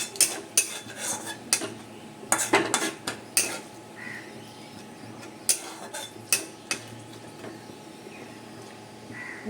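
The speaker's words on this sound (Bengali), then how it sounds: "নাড়াবো" Dried red chillies are stirred in a pan, a utensil scraping and clinking against the metal in irregular bursts, close and fairly quiet with a low background hum and no talking.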